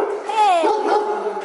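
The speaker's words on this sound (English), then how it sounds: "we're gonna check out some puppies" Puppies at an animal shelter let out a rising whimpering whine with short yips, close and fairly loud, over a soft room background.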